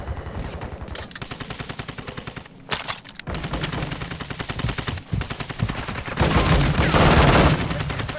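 Rapid automatic gunfire in a video game, loud and continuous bursts of machine-gun fire with a few heavier blasts, while players talk over the shooting.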